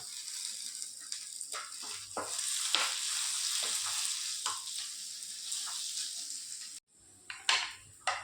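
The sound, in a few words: ginger garlic paste frying in pan for vegetable kurma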